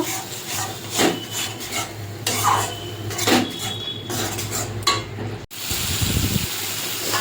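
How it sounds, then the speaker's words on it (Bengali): Chilli powder masala with a splash of water is stirred and cooked down in a pan for a Bengali stingray curry, giving repeated rasping scrapes and soft wet sizzling at close range, with no talk. "মশলাটা ভালো করে কষিয়ে নেব।"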